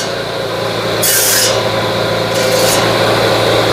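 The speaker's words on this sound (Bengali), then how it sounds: "স্ট্রেট কাটতেছে আমার এখানে এই দেখেন" A woodworking machine makes a straight cut through wood, giving a loud, continuous rasping whir close by, with brief brighter surges of cutting noise and no talk.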